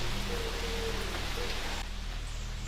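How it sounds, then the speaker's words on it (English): Steady rain falls in an animated series scene, an even, moderately loud hiss that sounds alone and thins slightly near the end. "You call the rain calm?"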